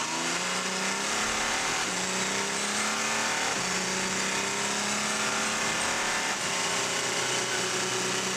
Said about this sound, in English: on the rev limit a very long time down the National Straight